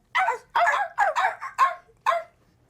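A person imitates a dog barking, giving six short, loud bark-like yelps in an uneven rhythm close to the microphone, with no other talk around them.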